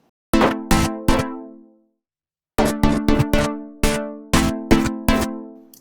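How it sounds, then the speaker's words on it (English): Harmonically rich synthesizer stabs chopped by a noise gate keyed from a Groove Shadow side chain, opening in short, sharply cut bursts: three hits, a pause, then a denser irregular run of gated chords with clean abrupt cutoffs. "every time the synthesizer sounds, it's triggering a different part of the groove shadow"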